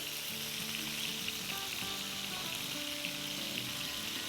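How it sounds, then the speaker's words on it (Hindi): Mushrooms sautéing in a pan: a steady dense sizzle and crackle that stays even throughout, with faint tonal music underneath and no talking. "मशरूम को अराउंड 1 मिनट सौटे करेंगे"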